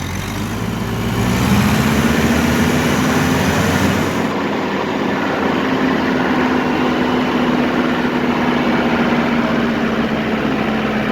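A tractor engine revs up under throttle with a Woods mower's PTO engaged, a loud steady drone rising in pitch and holding at a higher whine, outdoors and close.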